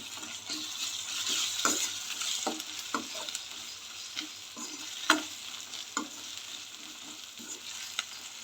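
Ginger garlic paste with turmeric frying and being stirred in a pan, a steady sizzle broken by repeated scraping stir strokes at close range, with no talking.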